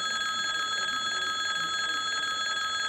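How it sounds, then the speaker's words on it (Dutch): Division bell of the Dutch House of Representatives (Tweede Kamer) rings continuously, a steady electric ringing with strong sustained tones, loud and alone without any talk. "dat dan op een gegeven moment 1 minuut of zelfs tot een paar minuten kan die bel afgaan"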